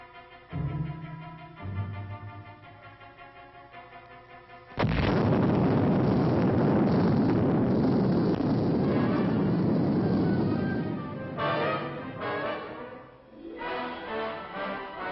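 Nuclear test explosion at Yucca Flats, Nevada, during military maneuvers: after a few seconds of quieter sound, a sudden loud blast erupts into a sustained deep roaring rumble lasting several seconds before fading into lesser rumbles.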